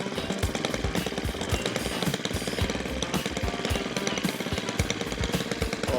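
A sputtering weed whacker engine idling unevenly, a steady rough chugging drone with rapid irregular pulses, loud and close, with no talk over it.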